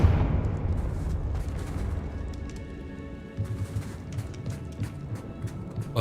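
A Confringo fire spell bursts in the Hogwarts Legacy video game, a dense, roaring rumble of blasts and debris that fills the whole stretch, with sharper crackling bursts flaring near the end.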